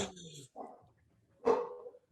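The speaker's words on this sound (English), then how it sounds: "my dog is barking" A pet dog barks indoors during an online conversation, giving a few separate woofs and yips with short gaps between them, moderately close and not masked by talk.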